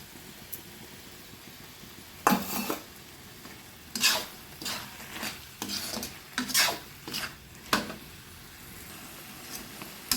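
Small whole tomatoes are stirred into bottle gourd frying in a pan for an Assamese pani lau dish. Soft sizzling runs throughout, broken by a series of close, irregular scraping strokes of the spoon against the pan.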